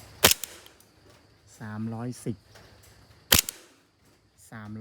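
Two sharp shots from a wood-pattern airsoft BB gun rated around 300 FPS ring out about three seconds apart, each a loud crisp crack, with a person speaking between and after them.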